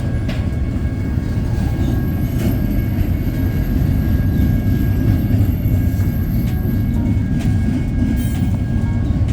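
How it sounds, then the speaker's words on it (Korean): A loud, steady rumble of a train rolling past close by on Route 66 in downtown Flagstaff, Arizona, continuous and unbroken with faint rattling on top. "딱 오른쪽 보니까 기차가 끝나갑니다"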